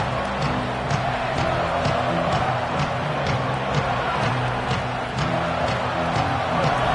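Stadium crowd roars in a college football video game, a steady dense wash of distant voices and cheering sustained throughout with no break.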